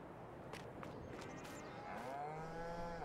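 Cattle in a dairy barn in the video game Farming Simulator 22 give a few soft shuffles and thumps, then a long, drawn-out moo rises clearly toward the end.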